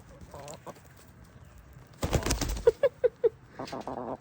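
A blind chicken gives four short, evenly spaced clucks close by, amid rustling and scuffling as it pecks at grass, with quiet background sounds before and after.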